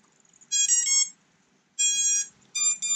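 Two long bursts of harmonic electronic beeping followed by a shorter pair, loud and close, with quiet gaps between: motor calibration beeps from an Xjaguar FPV racing drone.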